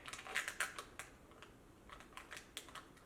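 Plastic screen bezel being pried off an MSI GE62 laptop, a string of faint, sharp clicks and snaps, several in quick clusters, close to the microphone with no talking.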